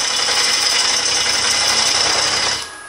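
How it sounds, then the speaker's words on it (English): A wood lathe runs with a carbide bit cutting the spinning wood, giving a loud, steady whirring and rattling roar that cuts off near the end. "everything on my lathe right now is shaking"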